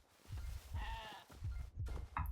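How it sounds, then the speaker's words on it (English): Sheep in the video game Hytale bleat several times in a short burst of wavering cries, close and clear with no talk over them. "There's some sheep."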